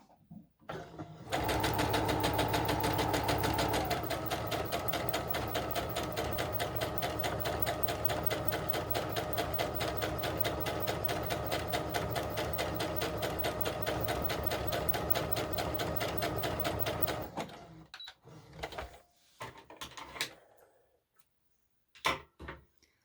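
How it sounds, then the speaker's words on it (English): A sewing machine runs a long gathering stitch on a doll bodice, one steady loud whirring run of about sixteen seconds, then stopping, followed by a few faint handling clicks and rustles. "So you're going to put your machine on a gathering stitch again."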